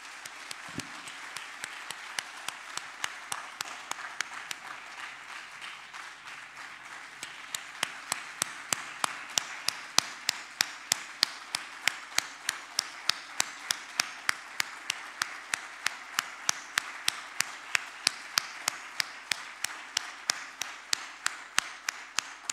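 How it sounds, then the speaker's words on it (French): Sparse, faint applause at a French accreditation celebration, individual claps ringing out in a steady, slightly irregular patter that continues for a long stretch with little else around it. "Permettez que l'on vous applaudisse."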